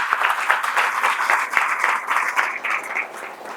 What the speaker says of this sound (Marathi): एकदा जोरात टाळ्या व्हायला पाहिजे